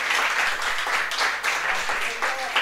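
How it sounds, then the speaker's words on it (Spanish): A church congregation claps steadily through a Sunday service, a dense wash of hands with voices calling out over it, filling the room without a break. "¿Por qué no le da un aplauso al Señor?"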